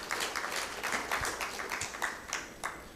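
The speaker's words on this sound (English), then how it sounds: "Let's give a round of applause to Dr." Audience clapping at a youth innovation challenge event in Uganda, a moderate, fairly distant round of applause with individual claps audible in an even stream.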